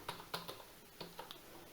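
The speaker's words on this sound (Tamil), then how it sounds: "உங்கள் அட்ரஸை கரெக்டாக டைப் பண்ணிடுங்க." Keys on a computer keyboard clack as an address is typed, in two quick bursts of crisp taps separated by a short pause, quiet and close with no talking.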